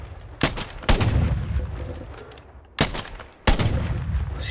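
A gun firing in Call of Duty, with four loud, sharp shots in two pairs, each with a booming low tail, the second pair coming after a short lull.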